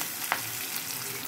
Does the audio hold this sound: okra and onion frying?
yes